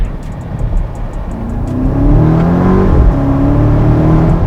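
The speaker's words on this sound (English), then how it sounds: "you can hear so much more turbo noise" BMW X7 M60i with a full carbon intake, its turbo engine heard through an open window: a steady loud engine drone rises in pitch as it accelerates, with a whirring turbo note over road and wind rush.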